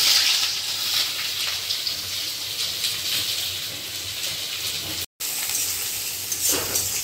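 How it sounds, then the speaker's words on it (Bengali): Chopped onions fry in hot oil after potatoes, giving a continuous close sizzle and crackle that is briefly cut by a short silent gap and then resumes with stirring. "এখানে পেঁয়াজগুলো খুব ভালো করে ভেজে নেব।"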